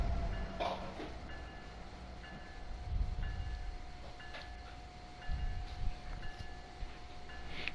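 A train in a PS4 train simulator game on the Northeast Corridor rumbles low and steady with rhythmic clanks and a faint repeating tone as it begins to roll, with no one speaking.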